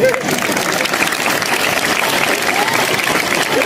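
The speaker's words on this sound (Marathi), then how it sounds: "टाळ्या वाजवल्या तर जोरातच वाजवायच्या, नाही तर वाजवायच्याच नाही" A crowd at a public speech in Kopargaon breaks into vigorous applause, a continuous dense roar of many hands clapping at an even, loud level throughout.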